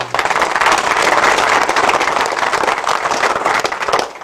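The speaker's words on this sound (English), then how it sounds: "a good hand of applause there for him" Audience applause at a local historical society show-and-tell program, a steady dense wash of many hands clapping together at moderate loudness, sustained without a break for several seconds.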